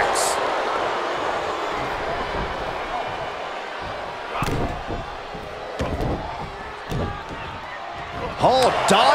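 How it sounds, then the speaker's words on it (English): A dragon suplex slam in WWE 2K22 during a WCW eight-way battle royale, heard as heavy thuds and impacts over steady arena crowd noise, with commentators talking throughout. "Dragon suplex."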